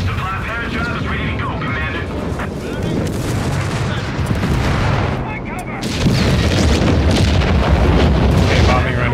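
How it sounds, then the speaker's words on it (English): Bombing run explosions in Company of Heroes 3, with dense rumbling booms and artillery-like blasts rolling continuously and swelling louder near the end, under players talking. "Okay, bombing run going."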